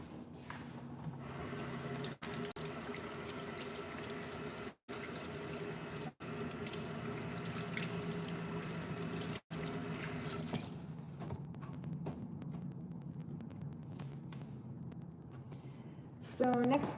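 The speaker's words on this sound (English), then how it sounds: "I'm gonna wash my fingers real quick." Fingers rinsed under a running kitchen tap during a peach trifle preparation, a steady close stream of water lasting most of the time, with brief breaks and a faint voice near the end.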